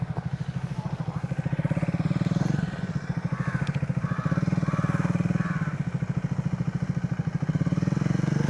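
Royal Enfield Himalayan, Triumph and Honda motorcycles ride off-road together, their engines thumping in a loud, steady rapid pulse that rises and dips slightly as the bikes move, with no pause in the chugging.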